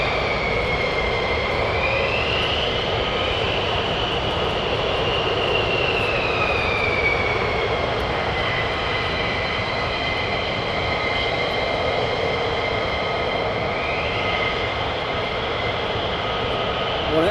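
A fighter jet at RAF Lakenheath roars through takeoff, a loud continuous engine rumble with a rising and falling whine layered on top, sustained throughout with no voices.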